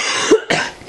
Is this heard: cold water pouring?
no